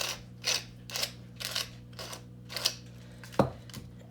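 A hand-turned pepper mill grinds pepper for Bloody Marys in a kitchen, giving seven or eight short gritty crunching bursts in an even rhythm, close up, with a brief clunk near the end over a steady low hum.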